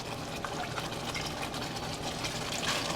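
Chicken broth for a homemade chicken pot pie pours steadily into a container, a continuous close splashing trickle lasting a few seconds with no speech.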